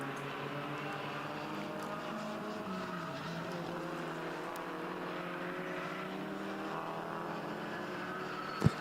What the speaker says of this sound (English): coming through in that Mini Marcus, sweeping onto the Brabham straight